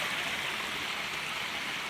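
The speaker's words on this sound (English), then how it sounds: "Just came across this gorgeous little hidden away waterfall and stream" A small hidden waterfall and stream beside a trail in the Smokies make a steady broadband rush of flowing water, close and even, with no voices.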